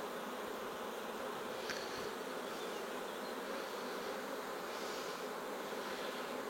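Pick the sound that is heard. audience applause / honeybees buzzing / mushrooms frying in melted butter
honeybees buzzing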